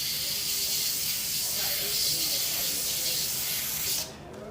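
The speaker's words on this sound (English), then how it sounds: "now we have an airbrush that is at least spraying" An airbrush sprays Vallejo gloss black primer onto a resin figure, giving a steady close airy hiss for about four seconds before stopping abruptly.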